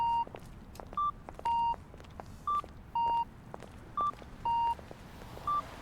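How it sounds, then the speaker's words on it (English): Repeating electronic beeps in the video game Witch on the Holy Night, alternating longer and shorter tones in a steady pattern like a crossing signal, loud and close over soft town ambience and faint footsteps. "Whenever I hear a beeping like that, I'm just like, is this all like a dream"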